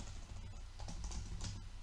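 Soft keyboard typing during a pandas coding lesson, light irregular taps close by under a faint background hum, no voices.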